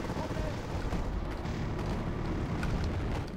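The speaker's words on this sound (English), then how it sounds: "Mortars." Mortar fire in the Wargame AirLand Battle video game, heard as a dense, continuous rumble of distant blasts with no clearly separated individual shots.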